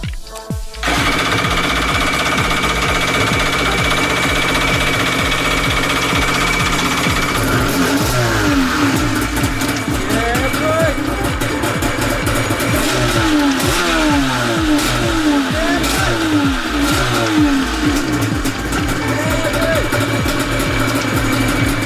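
A Jet Ski 750 engine, primed again for an airlock in the carburetor, cranks, catches and runs at a loud rough idle, then revs up and down in repeated surges over about fifteen seconds.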